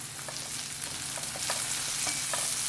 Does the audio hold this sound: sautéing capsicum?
yes